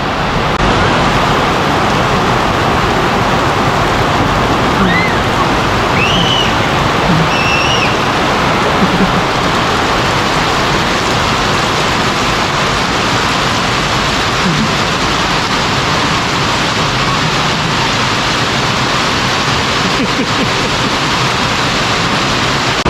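Steady, loud broadband hiss of heavy rain filling the whole stretch without pause, with a few faint higher chirps surfacing briefly.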